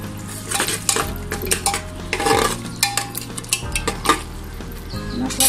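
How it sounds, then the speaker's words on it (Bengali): Spice masala for mutton rezala is stirred and sautéed in a pan, a metal spoon scraping and clinking rhythmically against the pan over a steady sizzle, close and clear with no talk. "মশলাটাকে আমি ভালোভাবে কষিয়ে নিচ্ছি।"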